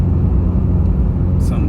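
Steady low car interior road noise while driving, a dense continuous rumble with a faint brief higher swish near the end, close and loud.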